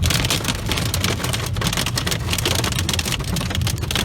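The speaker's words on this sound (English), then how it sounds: "Oh, big ass hail." Large hail pounds a vehicle during the December 2021 derecho storm, a dense, loud, continuous clatter of impacts with no talking.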